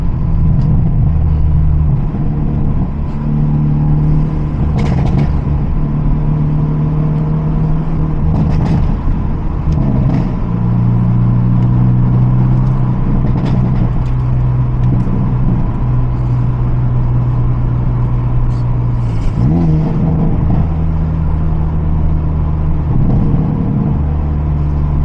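A Hyundai Elantra N fitted with a downpipe drives steadily, its engine producing a loud, continuous drone with shifting pitch as revs change, heard from inside the car with no talking.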